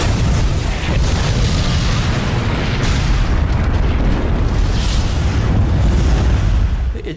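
The battleship Hood blows apart in a massive explosion, rendered as a documentary sound effect: a loud, continuous booming roar with rolling rumbles and bursts that fill the whole stretch before tapering at the end.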